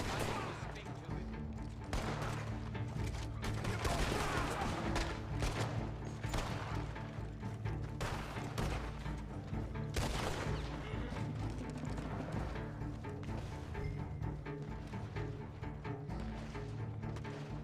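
Gunfire from Lansing's gunmen in the video game Red Dead Online, a dense, steady barrage of rapid shots and cracks that keeps going throughout, fairly loud and continuous with no pause.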